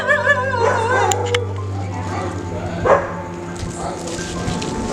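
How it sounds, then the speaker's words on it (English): A dog barks a few times amid a steady patter like rain, with people talking in the background. "this dog is just barking because it needs biscuits"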